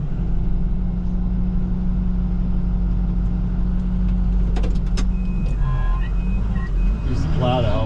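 A snow plow truck's engine rumbling steadily up close as it drives and shoves fallen branches aside, with a rising whine near the end and a person talking over it.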